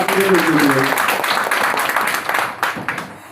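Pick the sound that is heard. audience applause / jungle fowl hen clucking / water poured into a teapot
audience applause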